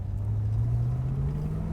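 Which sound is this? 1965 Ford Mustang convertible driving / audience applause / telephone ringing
1965 Ford Mustang convertible driving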